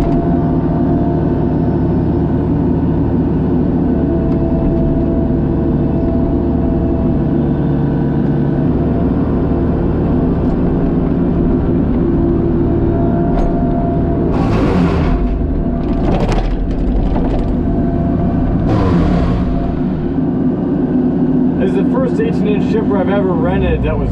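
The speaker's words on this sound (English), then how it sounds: "Got the chipper here" A rented gas-powered wood chipper being loaded with tree limbs gives a loud, steady engine drone throughout, with bursts of mid-range clatter and rushing noise partway through, while someone talks over it.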